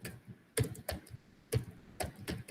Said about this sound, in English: I'm typing fast.